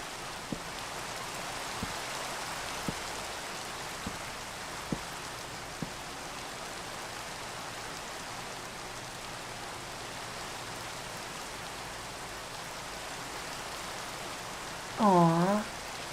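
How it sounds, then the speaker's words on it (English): Steady rain falling, a dense even hiss of drops with occasional soft taps, continuous and close, with a brief tonal chirp near the end. "Look, the sun's trying to shine while it's raining."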